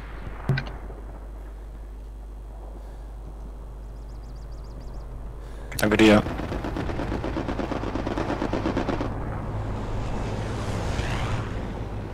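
An MG 42 machine gun fires in a long rattling burst on Utah Beach in the game Hell Let Loose, loud and close over a steady wind and surf roar, preceded by a lone distant shot.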